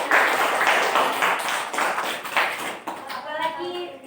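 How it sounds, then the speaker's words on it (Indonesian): A small group in an Indonesian classroom counselling session claps in a brief burst of applause, fairly loud and close at first, then thinning into scattered claps with overlapping voices toward the end. "Beri tepuk tangan."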